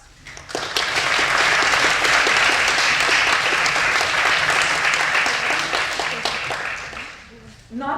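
Conference opening audience breaks into applause, rising quickly into loud, sustained dense clapping, holding steady for several seconds before thinning out near the end.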